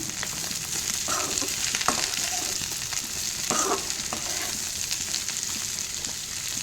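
Cut broad beans, about 250 grams, are stirred in a pan for a South Indian poriyal, producing a continuous moderate frying hiss with a few soft scrape-and-tap sounds from the stirring, no voices.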